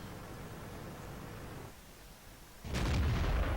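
A Leopard PT A tank gun firing in World of Tanks, one sudden heavy boom with a rumbling tail breaking through a steady engine hum near the end.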